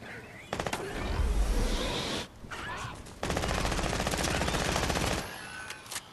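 Rapid video game gunfire comes in two loud bursts of automatic fire separated by a brief pause, then fades out, with a voice speaking alongside.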